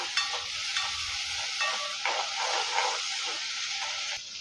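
Steady sizzling and frying from a hot pan as spice masala is sautéed for fish curry, with occasional scraping clinks as the spices are stirred, continuous and fairly close.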